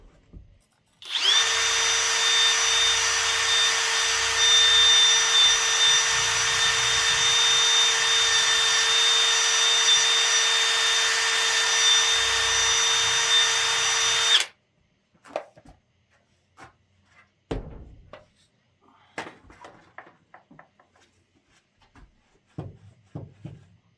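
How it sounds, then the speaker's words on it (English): A drill spins a wire wheel on a Honda del Sol hub and knuckle for about thirteen seconds, a loud steady whine with a high tone, then stops, followed by scattered clicks and handling noises. "if you're going to use a wire wheel or anything on a drill"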